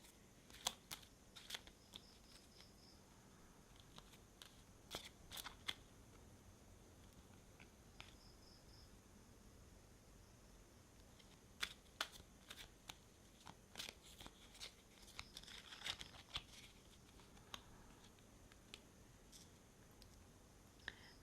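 Faint, close shuffling of a tarot card deck, with soft riffles and scattered crisp clicks and snaps coming at irregular intervals.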